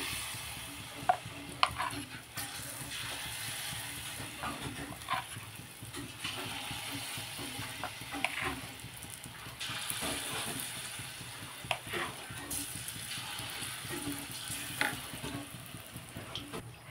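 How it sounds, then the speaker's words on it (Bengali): Small semolina dumplings fry in hot oil with a steady, close sizzle and bubbling, punctuated by occasional scrapes and taps of stirring. "শুধু ছোট ছোট করে বড়ার মতো করে ভেজে নিলেই চলবে"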